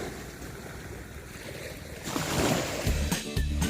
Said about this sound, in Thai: แต่เสียงคลื่นทะเลก็ทำให้ผมผ่อนคลายไปได้มาก